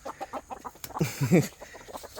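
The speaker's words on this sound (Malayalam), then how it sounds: "ഇത് വീട്ടാവശ്യമുള്ള കോഴിയാണ്" Backyard chickens in a coop where bitter gourd vines are grown cluck in short bursts nearby, with a louder flurry of clucks in the middle.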